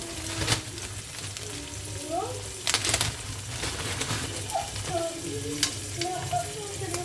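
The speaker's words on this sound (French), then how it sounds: "On laisse bien cuire l'oignon. Moi, je vais mettre des petits poivrons en même temps." Chopped onion and frozen peppers sizzle steadily in a hot pan, a continuous crackling hiss with occasional stirring clatter, close and fairly loud, with a few soft coos in the background.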